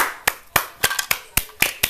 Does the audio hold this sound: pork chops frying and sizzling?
no